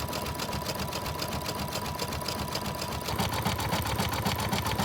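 Embroidery sewing machine running a satin stitch in the hoop for a rosebud overlay, a dense, rapid mechanical chatter at a steady pace, close and moderately loud throughout, with no voices.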